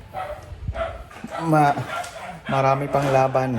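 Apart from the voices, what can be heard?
neighborhood dog barking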